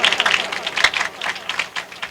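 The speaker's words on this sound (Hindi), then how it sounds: "इस कलाम के लिए जोरदार ताली बजाइएगा।" A church congregation claps at an Easter sermon, a dense, continuous patter of many hands at moderate loudness, with slight swells over two seconds and no speech.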